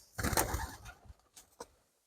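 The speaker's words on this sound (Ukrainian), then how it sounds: "білі голуби, символічні, красиві" White pigeons in a village dovecote give a low, soft coo, a short rolling call followed by a couple of fainter murmurs, quiet and close.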